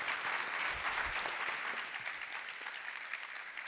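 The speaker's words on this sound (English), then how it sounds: "Let's give my panel a round of applause" An audience applauds a sports community organizations panel, a dense steady wash of clapping filling the room and slowly easing off, no voices over it.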